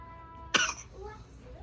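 A young boy getting over a little cold coughs once, a single sharp close-up burst against a quiet room with faint background sound.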